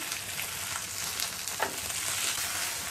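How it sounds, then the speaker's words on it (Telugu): Chopped coriander leaves fry in a pan for a coriander tomato chutney, giving a quiet, even sizzle with a faint scrape of stirring. "తరిగి పెట్టుకున్నటువంటి కొత్తిమీరను వేసుకుందాం. కలుపుతూ 2 నిమిషములు వేయించుకోవాలి."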